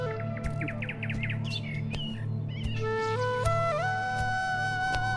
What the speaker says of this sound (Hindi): जंगल में ऊंचे पेड़, चिड़ियों की आवाज़ और शांति भरा माहौल था।